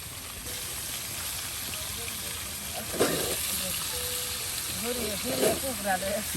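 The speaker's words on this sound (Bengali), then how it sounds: "এখন কিন্তু মাংসগুলো বেজে নেওয়া হচ্ছে" Chicken meat frying and being turned in hot oil for a Bengali chicken and banana curry cooked outdoors, a steady sizzle and hiss running throughout under several voices talking.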